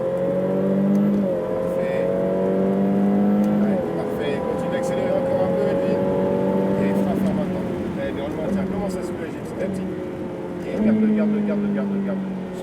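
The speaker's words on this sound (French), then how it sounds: "Allez, du gaz à fond, fais-toi plaisir" A Ferrari F8 Tributo at full throttle on a circuit during a driving course, its engine note climbing steadily through the gears with shifts and then easing off, loud and close, while people talk over it.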